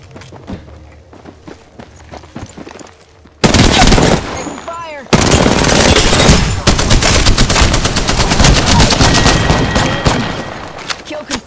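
Apex Legends gunfire as Bangalore fights: scattered shots and footsteps at first, then loud bursts of rapid automatic fire that continue almost without pause to the end.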